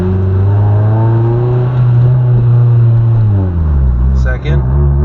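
A manual car engine pulls in first gear without the clutch, droning loud and close as its pitch rises steadily, then dips near the end with a brief click.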